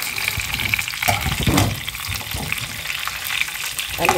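Stuffed pigeon filling is stirred in a pot, giving a steady close sizzle and wet, scraping, bubbling sounds with a few louder stirring strokes.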